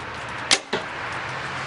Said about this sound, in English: We're going to stick it right up against the camera so you can hear this bow really well, because it is extremely quiet.